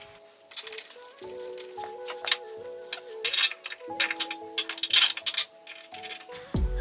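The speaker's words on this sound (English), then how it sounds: "Put these bolts back on so they don't get lost." Metal bolts from the rear axle of a 1998–2002 Camaro clinking and rattling as they are handled and threaded back in, a string of bright close metallic taps and chinks in irregular bursts, ending with a heavier clunk.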